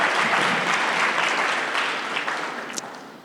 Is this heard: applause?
yes